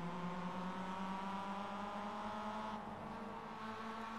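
The sim race car's engine drones steadily in iRacing, a faint, sustained buzzing tone with little variation in pitch, heard alone without talk.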